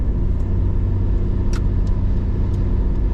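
A 33-year-old Holden Ute drives along, its engine and road rumble steady and loud from inside the cabin, with a few faint clicks and rattles and no talking.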